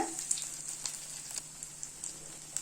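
A masala vegetable omelette fries in a covered pan, a soft continuous sizzle with small pops and crackles, heard alone without talk.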